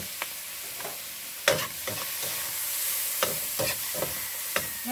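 Meat being stir-fried with soy sauce for pancit, giving a steady background sizzle broken by several sharp spatula scrapes and clanks against the pan, close and fairly quiet, with no talking.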